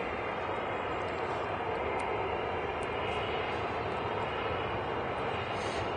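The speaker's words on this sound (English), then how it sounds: "going out now, this is a Ryanair, and it's 737 going to Prague" A Ryanair Boeing 737 departing Manchester Airport for Prague, heard as a steady, broad jet roar that holds evenly throughout without any talk.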